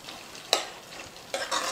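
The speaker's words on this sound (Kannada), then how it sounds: "ಇದೆಲ್ಲ ಸ್ವಲ್ಪ ಚಲೋ ಹೊತ್ತಿನಾಗೆ ಫ್ರೈ ಮಾಡ್ಕೊಳ್ಳೋಣ ರೀ" Potatoes, chopped tomatoes and pulses frying in oil, a soft hiss with two sharp bursts of sizzle as ingredients are stirred or tossed, close and brief.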